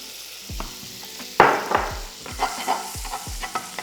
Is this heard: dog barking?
no